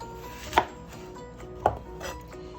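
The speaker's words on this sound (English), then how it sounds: "we're gonna cut down the middle" A knife slicing an apple down the middle on a cutting board, two sharp close chops about a second apart with a fainter third, no voices.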